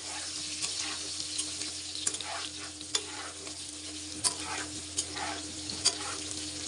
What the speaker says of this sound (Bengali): আলুগুলো ভাজা প্রায় হয়ে গেছে,